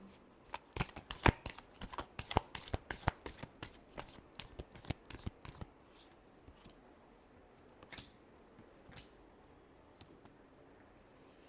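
Tarot cards are shuffled by hand in a quick run of crisp, rhythmic riffling clicks, close up, then slow into a few sparse taps and soft card sounds before going quiet.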